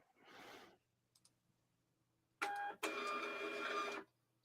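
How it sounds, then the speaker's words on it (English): A label maker prints labels in two bursts of buzzing, whirring mechanical noise, a short one and then a longer, steadier run, preceded by a soft rustle and a couple of faint clicks, close and fairly loud. "I'm printing labels on a label maker"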